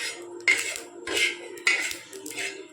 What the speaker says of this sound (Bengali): সামান্য ধনে আর জিরেও আমি এই শুকনো খোলা এরকম করে ভেজে নিচ্ছি